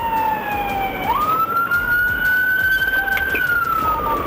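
A police car siren wails during a high-speed chase near I-75 and CR 234, one steady rising and falling tone that climbs after a second and holds high, loud and close over road noise.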